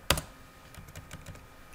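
Keystrokes on a computer keyboard: one sharp, loud tap followed by a quicker run of lighter clicks, close by and with no voices.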